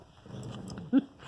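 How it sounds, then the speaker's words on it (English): A dog gives a short whimpering yip amid low background murmur, with faint playful canine noises scattered through the moment. "If you hear the dogs in the background, they're all being playful."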